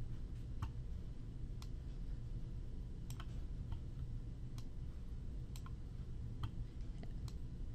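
Computer mouse clicks while dragging Skype contacts, about a dozen sharp, faint, irregularly spaced clicks over a low steady background hum.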